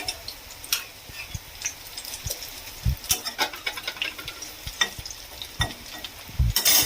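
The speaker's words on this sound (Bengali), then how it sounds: "আর একটু আছে, এরকম ভাবে সেগুলোও ভেজে নেব।" Poppy seed and papad fritters frying in hot oil, a steady sizzle broken by irregular clicks and taps of a utensil turning them, close and moderately loud with no talking.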